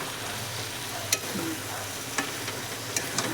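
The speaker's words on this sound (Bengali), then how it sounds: "এটাকে এবারে হালকা হালকা করে একটু কষিয়ে নিতে হবে 2-3 মিনিট" Chicken kosha fries in a pan with chili powder and cumin paste while being stirred. A steady close sizzle runs throughout, with a few sharp clicks of the spatula against the pan and no one talking.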